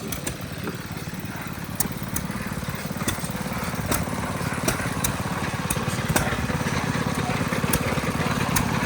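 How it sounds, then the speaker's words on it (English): An antique Maytag engine-powered washing machine runs with a fast, steady putt-putt exhaust rhythm, loud and close at an outdoor engine show, with faint voices in the background. "I'm doing the laundry on a Maytag. I've got some wash in there."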